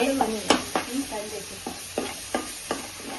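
Ginger garlic paste sizzles in a frying pan for a fish curry, with a steady hiss under rhythmic scraping stirs, close and moderately loud.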